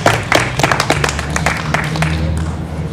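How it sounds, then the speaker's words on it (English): Outdoor rally crowd applauding, a steady spatter of many hands clapping at moderate volume over low background hum, lasting throughout without speech. "So give yourselves an applause."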